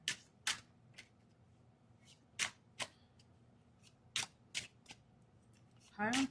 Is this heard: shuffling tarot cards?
yes